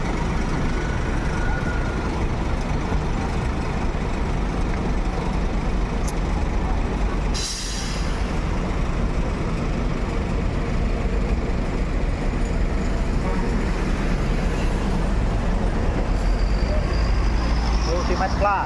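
Mutiara Hitam NPM buses idle at a departure point for Ranah Minang, a steady loud diesel rumble running throughout, with a brief air-brake hiss midway and people talking nearby.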